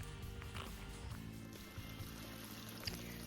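A waterfall pours over a rock ledge at the Saltpeter Cave Nature Preserve in Hocking Hills, making a steady, close rushing wash of water with no voices.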